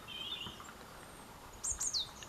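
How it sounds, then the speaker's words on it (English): Faint bird chirps and a brief high trill in the distance over quiet outdoor background noise. "you can hear that beautiful joyous song of spring rising with the birds"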